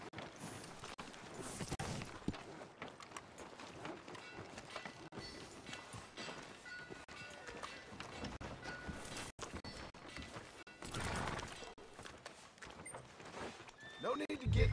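In the Red Dead Redemption 2 video game, a horse whinnies and its hooves clip-clop at a walking pace, with voices talking over the steady background.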